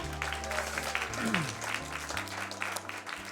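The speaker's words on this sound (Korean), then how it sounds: "목사님께 박수 한번 해줘요" A church congregation at a children's service claps for the pastor, moderate applause heard beneath sustained musical tones and some voices.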